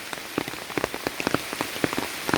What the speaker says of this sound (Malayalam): നിലവിൽ ഇവിടെ നന്നായിട്ട് മഴ പെയ്തുകൊണ്ടിരിക്കുകയാണ്